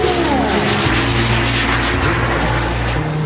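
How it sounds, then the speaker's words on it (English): Propeller aircraft of an air force aerobatic team's synchro pair flying a corkscrew manoeuvre at an airshow roar loudly and steadily throughout, with a continuous engine drone and shifting pitch as they pass. "This is the synchro pair and their final maneuver. This is the corkscrew."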